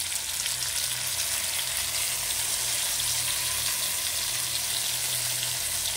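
Mustard paste spooned over pomfret frying in oil for a Bengali-style jhal gives a steady, loud, continuous sizzle that fills the whole stretch, with no voices.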